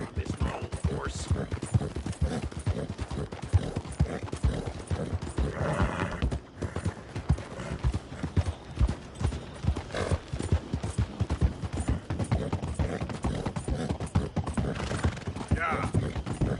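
Horse hooves clip-clop in a rapid, steady gallop rhythm in the Western game Red Dead Redemption 2, with occasional whinnies and mechanical rattles, while voices talk over it.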